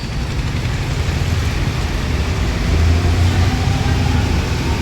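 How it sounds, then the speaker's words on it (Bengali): A train crossing a railway bridge over a river, a loud continuous low rumble and roar that swells slightly midway, heard close and without talk. "এই দেখো ট্রেন যাচ্ছে।"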